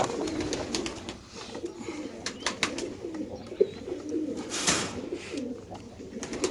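Racing pigeons in a loft coo softly and repeatedly, a low warbling murmur from several birds nearby, with faint rustling and a few background knocks.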